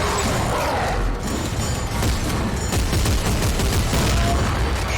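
Shotgun blasts in the sci-fi horror game Dead Space 3, played on Classic Mode, fired in dense, overlapping bursts amid chaotic combat clatter and booming impacts that run continuously through the whole stretch.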